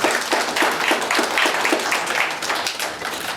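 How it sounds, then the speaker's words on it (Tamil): A crowd claps at a Tamil public event as a state minority commission official is introduced, dense, even clapping with individual hand strikes audible, filling the moment without speech. "கைத்தட்டு நல்லா."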